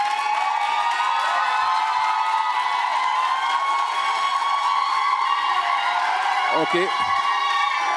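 A crowd at a youth council political debate applauds and cheers a candidate, with continuous clapping and shouts filling the whole stretch and a brief voice near the end.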